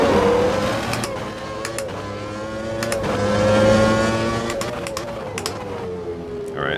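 Race car engine in the Automobilista 2 sim racing game, a sustained droning whine that rises and falls with revs as the car laps, punctuated by short sharp clicks from gear changes, heard up close.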